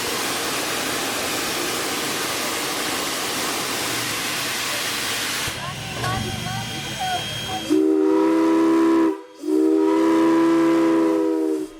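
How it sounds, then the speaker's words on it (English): Strasburg Railroad steam locomotive Engine 89 pushes its first train of the day back into the station: a broad rushing roar of steam and rolling cars, then two long loud whistle blasts separated by a short gap. "Our journey starts with Engine 89 pushing its first train of the day back into the station."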